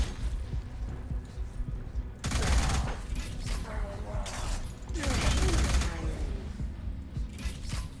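Rapid bursts of gunfire from an iron cannon in the 2023 video game Unique Polish Experience, two loud sustained volleys separated by quieter background noise.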